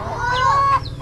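Two chickens fighting, giving a brief close burst of harsh squawking and honk-like fowl cries that stop abruptly near the end.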